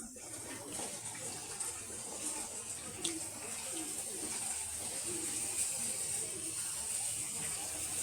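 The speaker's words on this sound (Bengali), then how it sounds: "কড়াইটা ধুয়ে নিলাম" Running tap water splashes steadily as a wok is rinsed at a sink, a constant close hiss of flowing water with faint clanks of the pan.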